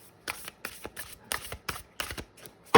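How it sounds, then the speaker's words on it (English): A new, slightly sticky tarot deck is shuffled by hand in a series of quick riffling bursts, about seven close crisp rustles separated by short pauses, with no voice over them. "shuffle one more time"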